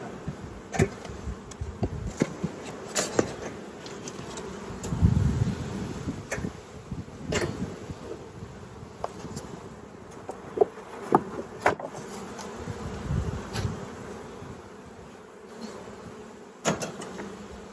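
Honey bees buzz around an open hive, a dense, continuous droning swarm close by, with occasional sharp clicks and knocks from handling the frames, and no talk.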